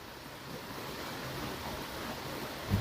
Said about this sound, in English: Now this is the Little Lost River.